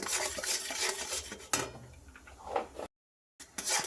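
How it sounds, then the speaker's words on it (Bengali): A spiced dahi vada mixture being stirred, with close, continuous scraping and swishing of a spoon in a dish and a few clinks, broken by a brief silent gap, with no talking. "ভালো করে নাড়াচাড়া দেবো কিছুক্ষণ"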